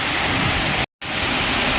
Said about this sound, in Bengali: হঠাৎ বাড়ির বৃষ্টি, মানে এত তীব্র বৃষ্টি।